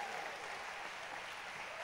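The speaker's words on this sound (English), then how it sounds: "Can you give all these a round of applause?" A church congregation gives a dense, continuous round of applause, heard as an even roar of many hands at a moderate distance for the whole stretch.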